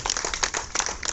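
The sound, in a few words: applause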